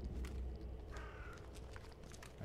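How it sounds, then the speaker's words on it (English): A crow caws in the video game The Sinking City, a faint, brief call sounding over a steady low rumble of ambient background noise. "Oh, a bird."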